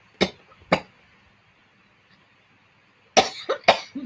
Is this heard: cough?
yes